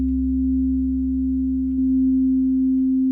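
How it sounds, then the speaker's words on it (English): A pure, steady sine wave tone from an Ambient Ø synthesizer with reverb holds one pitch for several seconds, smooth and loud, with a faint reverberant tail and no talking. "I'm going to set this up to a nice simple sine wave. Put some reverb on it."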